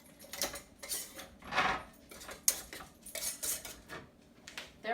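Hot glass canning jars of home-canned chicken being twisted hand tight, giving a series of close metallic clinks, scrapes and rattles of lids and glass spaced through a quiet kitchen, with no speech.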